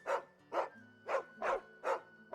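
A dog in the video game Final Fantasy 16 barks six times in an even, steady rhythm, each bark clear and close with quiet gaps between.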